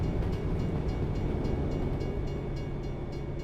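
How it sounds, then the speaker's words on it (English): A train passing by in a video game: a steady low rumble with rhythmic clacking of the wagons, continuous and moderately loud with no voices. "Oh, there's a train coming."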